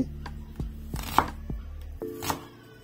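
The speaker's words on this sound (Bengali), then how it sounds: "কীভাবে আমি মিহিকুচি করে নিচ্ছি পেঁয়াজটাকে" A knife finely chopping an onion for a cabbage and egg kabab, giving a string of close, sharp board taps at an uneven rhythm, with no talking.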